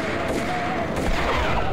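Dense, continuous gunfire from the Max Payne video game, a steady loud barrage of shots with no pauses and a faint voice underneath.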